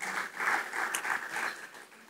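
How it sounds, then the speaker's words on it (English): Applause from a summit audience, soft and steady for about two seconds, with faint voices mixed in. "Big round of applause, please, if you can."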